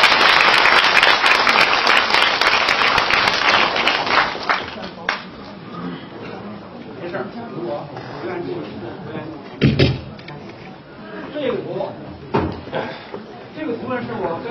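An audience at a Wu-style tai chi lecture claps together, a dense burst of applause at the start that fades out, followed by scattered knocks and someone talking.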